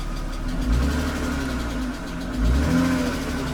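A BMW 328i E36 with 154,000 miles and the check engine light on runs close by, a loud steady idle with two brief rises in revs, and no talk.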